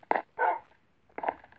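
Small dogs in Minecraft give short, close barks: two quick yaps, a pause, then two more, with no voices.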